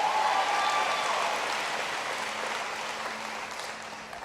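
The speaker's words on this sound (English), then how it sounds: "Give him a big round of applause." A town hall crowd at a health reform event in North Carolina applauds the Speaker of the House, a dense, steady wash of clapping that fades slightly over a few seconds, with no speech on top.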